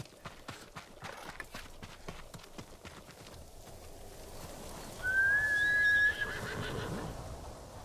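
A horse in the video game Ghost of Tsushima Director's Cut whinnies loudly after a run of rhythmic hoofbeats clip-clopping along, with faint background ambience.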